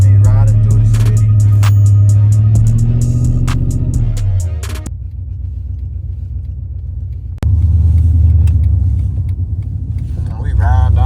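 BMW 650i driving through city streets, a steady loud low engine rumble heard from inside the cabin, with a shift in tone midway and talk over it.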